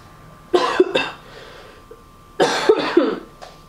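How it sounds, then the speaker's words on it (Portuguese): Two separate bursts of coughing, each a quick double cough, close and clear against a quiet room. "Demorei pra tossir hoje, né?"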